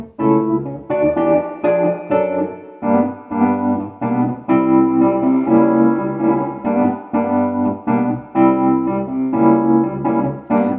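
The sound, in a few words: electric piano with spring reverb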